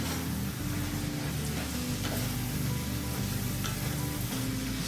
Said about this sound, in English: Stir this around, get those tomatoes down in there and let them start breaking down.